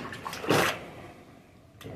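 Clothes being washed in a plastic basin of dirty water with a sink plunger make one short, close watery slosh, followed by quieter lapping and a faint second splash at the end.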